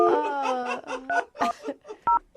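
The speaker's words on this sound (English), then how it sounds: "I just dialed the phone number" A telephone number is keyed in, its short touch-tone beeps sounding among whining, voice-like sounds that fill the gaps, fairly faint overall.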